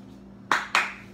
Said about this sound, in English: I don't even know why I just clapped when I dumped that out of my hands.